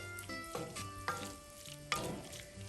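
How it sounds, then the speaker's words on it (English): Tomato paste cooks in a pan as it is stirred, giving a soft, quiet sizzle with a few distinct scraping strokes of a utensil, close by with no talking. "Give that a stir. Cook that tomato paste just a skosh."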